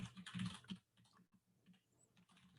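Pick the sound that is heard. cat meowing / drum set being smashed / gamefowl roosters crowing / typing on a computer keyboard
typing on a computer keyboard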